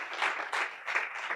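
An audience at a conference opening ceremony applauds a team, a brief burst of hand clapping from a crowd that rises and falls in small swells, fairly soft and heard alone.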